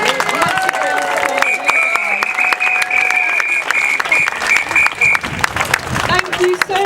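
A crowd at a Yorkshire anti-fracking rally applauds, dense sustained clapping with some cheering, while a voice carries faintly over it.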